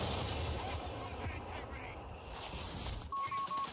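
Heavy artillery fire in a real-time strategy video game, rumbling booms and blasts that roll on continuously over game noise, with unit voices briefly heard near the end.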